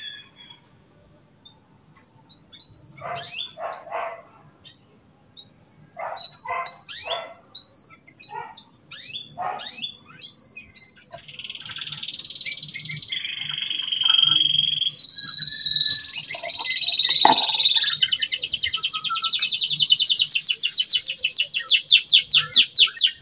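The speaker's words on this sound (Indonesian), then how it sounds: "Di sini ada suara-suara burung ya." Birds chirp and tweet outdoors in short scattered calls, growing into denser, sustained high-pitched song toward the end, fairly close and clear with no talking.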